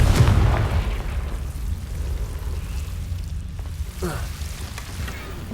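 A fiery Confringo spell blast in Hogwarts Legacy, a sudden booming burst up close that quickly fades into a low rumbling crackle.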